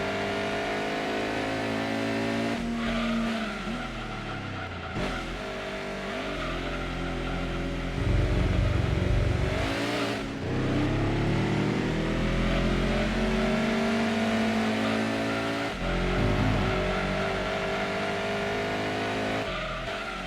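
Race car engines roar through an Apricot Hill endurance race in Gran Turismo 2 on the PS1. Loud, continuous engine drone rises and falls in pitch as cars accelerate and shift, with tyre squeal and occasional sharp gear changes.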